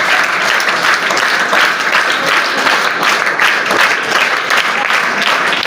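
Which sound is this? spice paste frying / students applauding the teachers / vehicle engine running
students applauding the teachers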